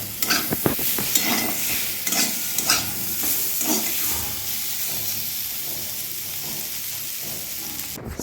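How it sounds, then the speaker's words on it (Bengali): Homegrown flat beans frying in a pan while being stirred, with a steady close sizzle and hiss broken by scraping stirs through the first few seconds, then a softer continuous fry. "আর হচ্ছে সিম ভাজা, এগুলো হচ্ছে আমাদের বাড়ির গাছের সিম।"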